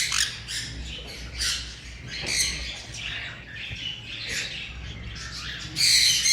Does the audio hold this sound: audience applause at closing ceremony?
no